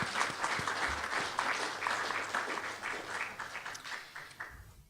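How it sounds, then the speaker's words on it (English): A round of applause from the audience at a regional higher-education consultation on open educational resources, even and sustained clapping heard from a middle distance, tapering off near the end. "deserves a round of applause for their visionary leadership"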